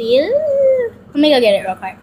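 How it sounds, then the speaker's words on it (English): A dog indoors gives drawn-out whining, howl-like cries in two bursts, heard near and fairly loud, with a person talking over it. "Excuse the dropping noise and the barking noise."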